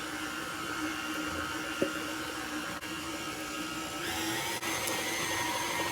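Electric hand mixer beating pumpkin cookie dough after the last of the flour goes in, a steady, loud continuous whir running through the whole stretch with no talk over it.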